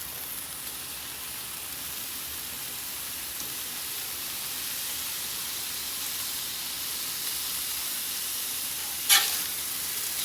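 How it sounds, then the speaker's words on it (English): Chopped beef round steak fries on a 22-inch Blackstone griddle with a loud, steady close-up sizzle, broken once by a short scrape of a spatula near the end. "I'm going to put a little bit of beef in here"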